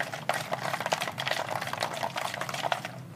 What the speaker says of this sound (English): The Tums tablets are reacting with the hydrochloric acid.